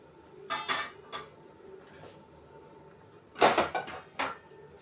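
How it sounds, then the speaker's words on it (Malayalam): A metal spoon clinks into a pot of Kottayam-style fish curry and a lid is set on top, producing a few close, bright metallic clatters in two clusters with a quiet pause between; no voices. "ഒരു സ്പൂൺ ഇങ്ങനെ ഇട്ട് വെച്ചിട്ടാണ് നമ്മൾ അടയ്ക്കുന്നത്"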